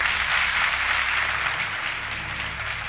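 Studio audience on an Indian quiz show applauding a contestant's husband, dense sustained clapping from a large crowd, loud and steady throughout with no voices over it.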